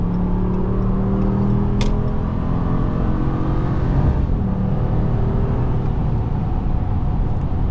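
A 2023 Ram 1500 Classic pickup truck engine hums steadily up close, its revs briefly rising partway through.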